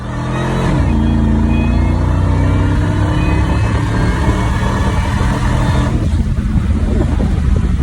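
Ford SVT Lightning pickup truck with Spintech mufflers rumbling steadily, a deep, loud, close exhaust drone that holds at idle-to-cruise throughout, with no talking over it.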